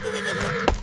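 A horse being attacked by a python whinnies loudly in distress, one strained, wavering neigh under a dense noisy background, ending with a sharp burst near the close.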